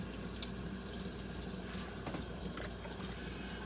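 Hot tap water running into a kitchen sink while dishes are washed, a steady, fairly loud rushing stream with faint clinks of dishware mixed in.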